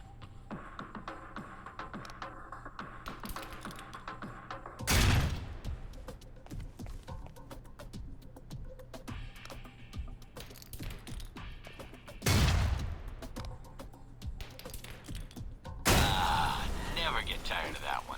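Grenade explosions in the video game Alpha Protocol, three loud broadband blasts spaced several seconds apart, with rumbling game action and scattered mechanical noises in between.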